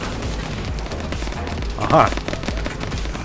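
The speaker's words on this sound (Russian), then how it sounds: "Слышу выстрелы по колесам. С пулемета, причем какого-то." In the video game Arma 3, a machine gun fires at the wheels of a presidential limousine, a brief loud burst of rapid shots in the middle. Someone speaks briefly around it.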